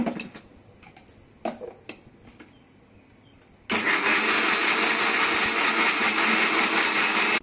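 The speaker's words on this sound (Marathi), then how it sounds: "आता आपण मिक्सरमध्ये फिरवून घेऊया." Mixer grinder blending coconut pieces with chillies into chutney, a loud steady motor whir that starts abruptly partway through after some quiet kitchen clatter, then runs without pause.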